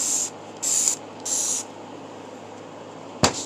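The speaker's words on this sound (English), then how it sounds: "Spray it on liberally." Cleaner sprays onto an old Zebco Z20 fishing reel in three short hissing bursts, close and fairly quiet, followed by a sharp clack near the end.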